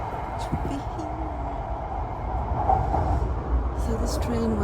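A quiet interior hum and low rumble of a Japanese JR train, steady and moderately loud, with faint clicks and thin tones over it and no clear talk.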